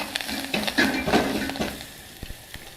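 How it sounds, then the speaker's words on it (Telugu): Corn samosa filling with turmeric and salt stirred in a pan, a few soft scrapes and clinks over a light sizzle that fades toward the end, close by and without talk. "దీన్ని ఒకసారి బాగా కలుపుకుందాం"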